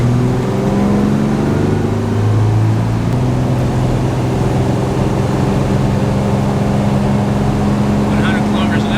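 A classic Toyota overland truck is driven at highway speed during an RPM test, its engine drone and road roar loud and steady throughout, close and continuous.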